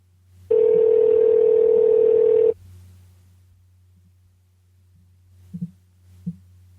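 A call to the Adult Swim phone line gives one loud, steady tone lasting about two seconds, followed by quiet line hum and a few faint clicks.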